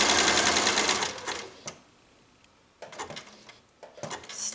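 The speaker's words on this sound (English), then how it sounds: "so I can sew down this way now and cover up the part that I just sewed at that tip" A sewing machine stitches embroidery on a quilt in a loud, quick burst, then goes quiet. Short clicks and a second brief run of stitching follow after the pause.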